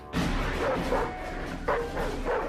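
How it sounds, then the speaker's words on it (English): A bull mastiff war dog barks in a documentary setting, several deep, rough woofs in quick succession with a short pause between bursts, loud and close, with no talking. "And this was Cortez's first secret weapon, a bull mastiff"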